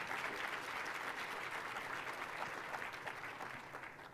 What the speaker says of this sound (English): Can we give them a great round of applause?